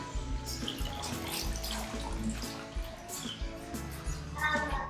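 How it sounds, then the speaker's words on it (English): Water runs steadily from a faucet, a broad splashing hiss with some faint voices and clatter in the background. "there's the water faucet"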